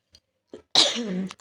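A single harsh cough from an irritated, scratchy throat rings out up close after a couple of faint breaths, loud and rasping for about half a second.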